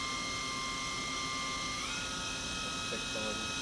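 A Matsuura four-axis vertical machining center spindle running at 5,000 RPM gives a steady high-pitched whine with sustained tonal hum, a slight pitch shift midway, and faint voice traces underneath.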